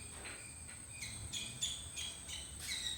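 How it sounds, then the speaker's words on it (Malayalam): Small birds chirp in a green Kerala yard on a quiet morning, high repeated calls coming in short bursts, faint and alone. "ഈ പ്രഭാതവും ഈ കിളികളുടെ ശബ്ദവും"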